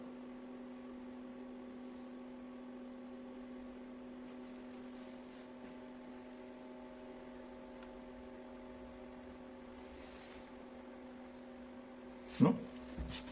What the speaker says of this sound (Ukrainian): Чути, як працює вентилятор.